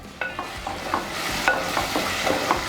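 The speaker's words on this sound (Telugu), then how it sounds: "ఇప్పుడు టమాటా పేస్ట్ కూడా వేసేస్తున్నాను బాగా కలుపుకోవాలన్నమాట" Fish egg curry masala with tomato paste sizzles and fries in a pan while being stirred, giving close, repeated scraping strokes over a steady crackle.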